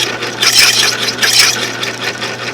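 A carbide blade trimmer shaves the end of a wooden pen blank with a brass tube, giving two close, steady raspy scraping bursts with a brief easing between them, no voices.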